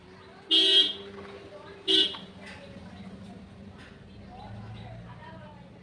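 Two short car horn toots about a second apart at a road bend, with a vehicle passing under faint background noise.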